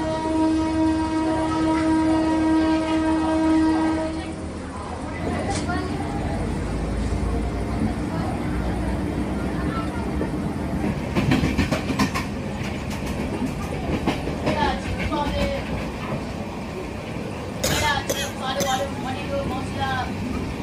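A passenger train runs along the track with rhythmic clickety-clack and rumbling carriages following a sustained horn blast at the start, with people talking over the noise.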